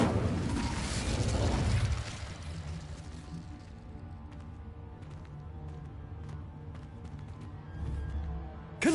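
A fire spell cast in the Hogwarts Legacy video game bursts out as a loud broadband whoosh in the first two seconds, then settles into a low, steady rumble of game ambience with faint crackles.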